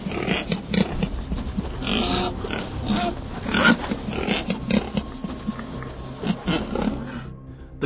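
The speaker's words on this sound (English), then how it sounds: "These wild boars weigh up to 700 pounds with sharp tusks." Wild boars, heavy animals with sharp tusks, grunting and snorting in a series of rough, irregular calls that rise and fall over several seconds, fairly close, with no talk.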